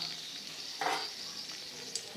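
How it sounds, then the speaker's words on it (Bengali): Bay leaves and dried chillies fry in a kadai with a faint, steady hissing sizzle, and brief louder crackles as the spices hit the hot oil. "একই কড়াইতে আমি দিয়ে দেবো তেজপাতা আর শুকনো লঙ্কা"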